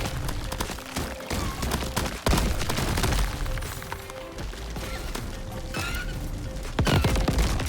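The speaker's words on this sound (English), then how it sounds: "I hate volatile explosions so much." Explosions from volatile enemies in a video game, set in a dense, continuous mix of gunfire and crashing game effects, with heavy booming bursts standing out near the middle and end.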